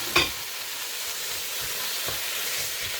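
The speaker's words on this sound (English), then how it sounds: "We are ready to fry our meat." Meat hits a pot of sautéed onion, ginger and garlic, starting with a sharp hiss and settling into a steady close sizzle with a few soft stirring bumps, no voices.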